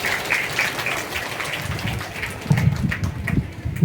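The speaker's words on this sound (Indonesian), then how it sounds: "Monggo diberi tepuk tangan yang meriah untuk Profesor Agus." An audience in a mosque hall gives a round of applause, a crackling rain-like patter of many hands that fades slightly, then swells again with heavier thumping claps toward the end.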